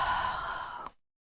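A single slow exhale of Ujjayi pranayama breathing, a soft hissing throat-constricted breath lasting about a second, close and alone, ending in silence.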